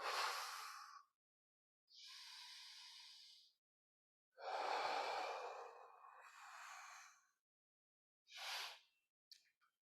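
Slow, deliberate breathing during a movement therapy class, several long breaths with pauses between them, close and fairly quiet.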